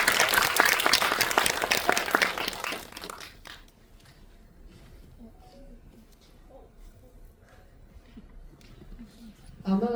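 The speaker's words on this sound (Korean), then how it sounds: "박수 좀 주세요" A Netflix special-talk audience claps loudly for about three seconds, then the applause fades into quieter room noise and scattered voices, with a brief burst of sound at the end.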